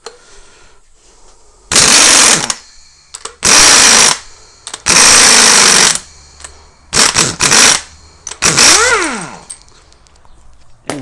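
Impact wrench undoing the top nut of a Volkswagen Golf V front shock absorber, loud rattling bursts of one to two seconds repeated about six times, separated by quiet pauses in a workshop.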